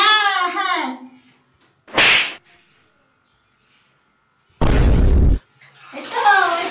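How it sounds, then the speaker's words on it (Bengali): Water pours during a bath in two short, loud gushes a few seconds apart, with someone talking before and after. "এই তো জল চলছে, জল জল জল জল।"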